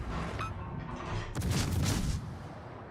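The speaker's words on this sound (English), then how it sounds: "He takes a torpedo." In the World of Warships naval game, a torpedo strikes a ship with a sudden heavy boom and rumbling blast that swells and then fades over steady engine and ambient battle noise.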